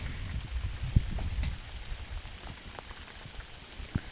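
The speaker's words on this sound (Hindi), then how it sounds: "अभी हो रहा है 5:30 और फिर से जोरों की बारिश लग चुकी है।" Heavy evening rain falls steadily in hill country during paddy-planting season, a dense continuous hiss of drops on surfaces with a few sharper drips and taps standing out nearby.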